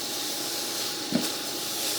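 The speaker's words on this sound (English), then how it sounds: "with all the steam coming off this wok" Sauce for a chicken and green bean stir fry steams in an induction wok, giving a steady soft hiss with one brief sharper burst partway through.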